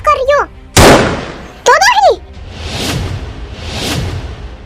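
Gunshot sound effects in a Hindi-dubbed drama, two sharp blasts, each followed by a long booming echo, with a voice crying out before and between the shots.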